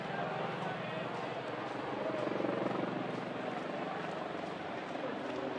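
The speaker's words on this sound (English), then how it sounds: "Here come your shoes now, Don, in the helicopter." A helicopter flies over a baseball ballpark during a Detroit at Boston game, a steady rumbling drone under crowd noise and talk.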